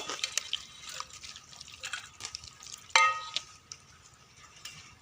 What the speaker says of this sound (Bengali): প্রথমে হাঁড়িতে মাংসটা দিয়ে দেব।